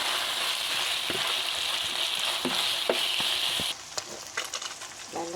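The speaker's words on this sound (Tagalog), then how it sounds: "Gisahin po natin, sesame oil ang gamit ko." Garlic, onion and pork sauté in sesame oil for baked macaroni, giving a loud, close, continuous sizzle with scattered stirring clicks. The frying quiets slightly partway through, leaving a softer crackle.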